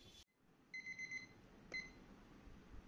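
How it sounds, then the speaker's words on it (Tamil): Alarm clock ringing indoors, a faint, quick run of shrill beeps followed by a single later beep over quiet room hiss. "3:30 மணிக்கு அலாரம் வச்சுருந்தேன்."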